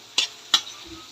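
Tomatoes and a little ground meat being stirred in a pan: three short scraping strokes at a steady rhythm, close and fairly quiet, with no speech.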